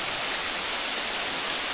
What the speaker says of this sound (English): it's raining heavily. Oh, even hailstorm.